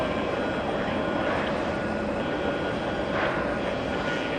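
A JetBlue airliner departs JFK airport on runway 4 left, a steady broadband jet roar with a slight swell mid-clip, sustained and moderately distant throughout.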